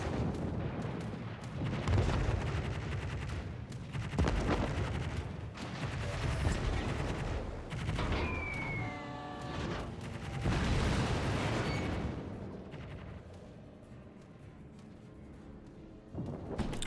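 Naval gunfire in a warship battle game, with enemy destroyer Daring and battleship Conqueror shelling the player's ship: repeated loud booming shell blasts and splashes roll one after another over a constant low rumble.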